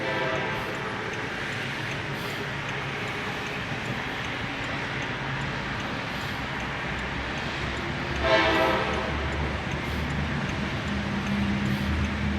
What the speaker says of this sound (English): Okay, train coming through.